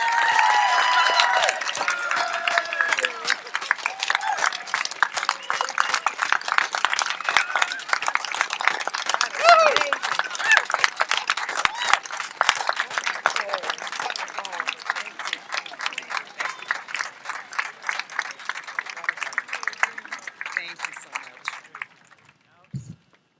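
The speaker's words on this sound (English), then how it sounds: "can we just get one more round of applause for Mel, Judith, Katie, and Jim?" Sustained applause from a large audience at a San Diego public library celebration, dense clapping with cheering that runs steadily for over twenty seconds before dying away at the end.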